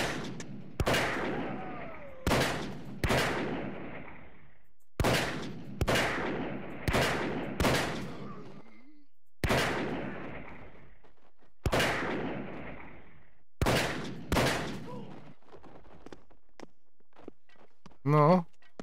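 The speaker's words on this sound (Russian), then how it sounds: "Я буду отстреливаться из укрытия," Gunshots from a firearm in the game Paint the Town Red ring out as about nine sharp, loud single reports spaced a second or two apart, each with a decaying tail, with no talk over them.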